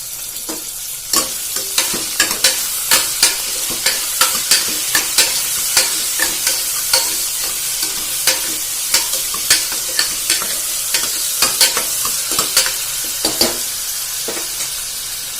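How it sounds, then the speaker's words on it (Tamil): Onions and tomato fry in a pan for a chow chow kootu, a steady sizzle broken by a regular series of sharp spoon scrapes as the mixture is stirred, close and loud with no talking. "வெங்காயம் லைட்டாக வெந்த உடனே தக்காளி ஆட் பண்ணிக்கிறேன்"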